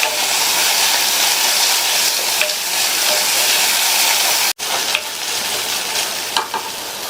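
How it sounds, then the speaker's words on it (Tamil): Chopped small tomatoes sautéing in a pan, giving a loud continuous sizzle and hiss with light stirring scrapes and a brief break midway, with no voices. "இந்த தக்காளியையும் லைட்டா 1 நிமிஷத்துக்கு வதக்கி விட்டுக்கலாம்."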